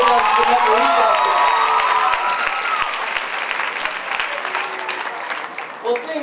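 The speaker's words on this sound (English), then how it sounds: "think that deserves a big round of applause" Loud, sustained applause from a school fun fair talent show audience, with cheers and whoops over dense clapping for a group of dancers from the Netherlands, fading slightly toward the end.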